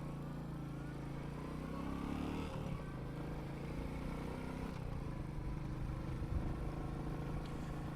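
A Royal Enfield Meteor 350 motorcycle on the road, its steady mid-pitched engine drone running continuously with slight shifts as it rides along, no talking.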